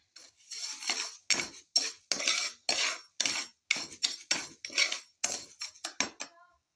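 A metal utensil stirring white sugar as it caramelizes in a pan for leche flan, a quick rhythmic series of close scraping clinks with short gaps, alone and fairly quiet.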